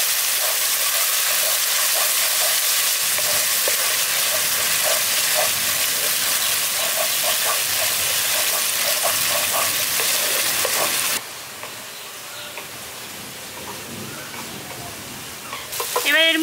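Curd being stirred into a pointed gourd masala in a hot pan, a loud, dense sizzle with scraping stirs that drops sharply to a quieter crackle partway through, with no one talking.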